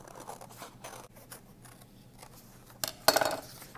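Scissors snip out a traced paper shape, a short burst of crisp close cuts after a quiet stretch of faint rustling.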